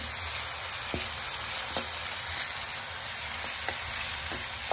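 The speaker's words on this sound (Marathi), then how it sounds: "अशा प्रकारे आपण परतून घेत आहोत।" Green chilies sauté in oil in a pan for an okra stir-fry, giving a steady close sizzle throughout, with a few faint spatula scrapes against the pan at intervals and no talking.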